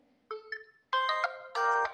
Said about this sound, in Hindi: यहाँ से आप अपने फ़ोन में अलार्म की रिंगटोन सेट कर सकते हैं